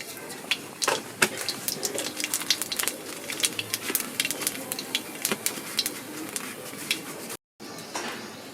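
Nigella seeds sizzle in hot mustard oil in a wok, a continuous crackling hiss with sharp pops scattered throughout, fairly close and steady for several seconds.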